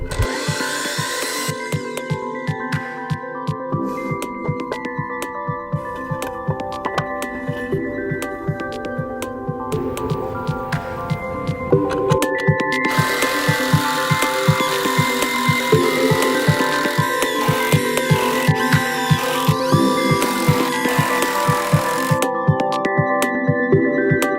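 A power saw cuts wooden legs for a mountain bike kicker ramp, a steady buzzing whine running continuously and growing louder and harsher about halfway through as the blade bites into the wood, with no talking.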